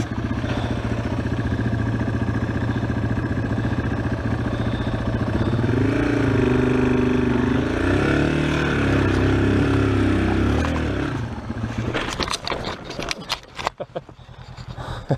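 A Yamaha XT225 motorcycle engine chugs at low, steady revs as it crawls over the rocky Rubicon Trail, loud and close, with the pitch rising and falling, then breaking into clattering bumps and a rider's voice near the end.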